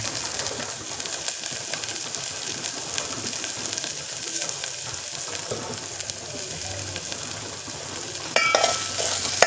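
Wild leafy greens (bhanguri/kajera) hiss and crackle as they are stirred while cooking in a pan. Pigeons or doves coo faintly in the background, and the sizzle grows briefly louder near the end.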